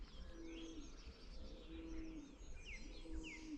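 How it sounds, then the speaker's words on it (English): A robin sings from a cherry tree in winter, a clear warbling song of repeated whistled phrases and trills rising above a steady low rumble of background noise, at moderate distance with no talking. "that's a robin, and it's sitting up on that cherry tree up there, singing beautifully"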